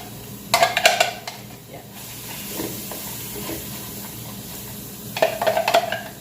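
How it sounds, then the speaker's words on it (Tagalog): Onions sautéing in a pan at home, with bursts of sizzling and stirring clatter near the start and again near the end, a softer hiss between, and a brief spoken word. "Pag nagigisa po ako, inuuna ko talaga yung sibuyas."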